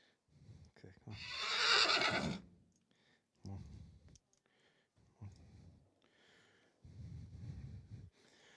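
A horse being loaded into a trailer gives a loud neigh at the start, then snorts and hoof sounds follow in short bursts with quiet gaps, close by.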